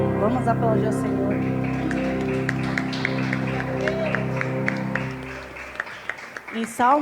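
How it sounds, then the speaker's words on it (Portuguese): Congregation applauding during a church worship service, steady clapping carried under sustained music and voices, fairly loud throughout, then thinning out and falling quieter near the end. "Vamos aplaudir ao Senhor."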